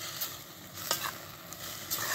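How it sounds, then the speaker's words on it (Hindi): A spoon stirs and scrapes through roti choori, a crumbled leftover-roti mixture, in a few close, soft swishing strokes with light clinks. "ये चम्मच के साथ उसको अच्छी तरह हला लेंगे"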